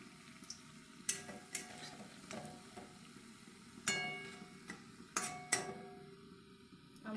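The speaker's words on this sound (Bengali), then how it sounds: "এগুলো একটু লাল লাল করে ভাজবো" Red bok flower fritters frying in oil, a soft continuous sizzle with a few sharper clinks and stirring knocks scattered throughout, close and fairly quiet, with no voices.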